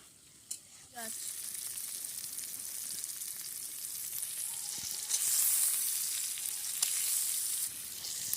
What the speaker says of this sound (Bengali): এতে দিয়ে দিলাম টমেটো কুচি। এগুলো দিয়েই এখন বেশ ভালোভাবে নেড়ে চেড়ে নিতে হবে।